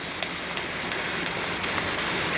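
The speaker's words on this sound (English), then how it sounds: "It's raining cats and dogs out here. A downpour." Heavy rain pours down outdoors at Blue Licks Battlefield, Carlisle, Kentucky, in a dense, unbroken hiss, loud and close, with no voices.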